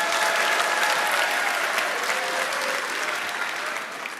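A theatre audience at a mentalist's show in Paris breaks into applause, a full, dense clapping that stays strong for about four seconds before starting to fade slightly toward the end.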